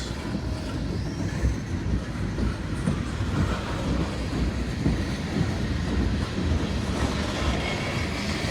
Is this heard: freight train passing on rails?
yes